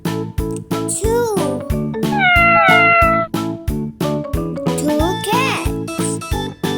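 Several drawn-out cat meows rise and fall over bouncy, rhythmic music, one of them a long wavering cry in the middle.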